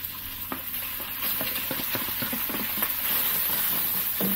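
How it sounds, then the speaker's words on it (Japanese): Pork sizzles in a heated pot with oil as it is stirred. A steady frying hiss runs under scattered scraping and clinking from the utensil, close and moderately loud, with no talking. "鍋が温まってきたら豚肉から炒めます。"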